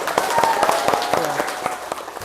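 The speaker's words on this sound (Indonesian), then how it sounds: "tepuk tangan dulu dong" A classroom of students gives a short, scattered round of clapping, uneven and moderately loud, with some voices mixed in.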